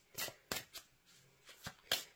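A deck of oracle cards being shuffled: a handful of separate, close, soft papery riffles and slaps in an uneven rhythm, quiet and alone with no voices.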